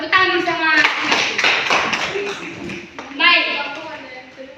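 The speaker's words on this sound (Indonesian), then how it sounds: "Tepuk tangan sama Novi." Children clapping their hands together in a classroom, a short burst of quick claps mixed with voices, with talking continuing over and after it.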